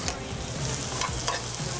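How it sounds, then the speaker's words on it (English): Mushrooms saute in hot bacon grease with a dense, continuous hiss and crackle close by, while a utensil stirs and pushes them around the pan. "we were going to throw the mushrooms in the bacon grease because we need to get these babies sauteed up real nice"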